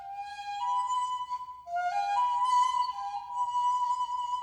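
Replica of a 35,000-year-old ivory flute playing a short, breathy melody of sustained, slightly wavering notes with brief pauses between phrases, clear and close with no talking.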